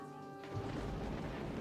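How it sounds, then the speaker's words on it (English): Summer rain and thunder in the S.T.A.L.K.E.R. Shadow of Chernobyl video game, a steady broadband wash of rainfall with a low rumbling swell, fairly quiet and continuous. "Summer rain."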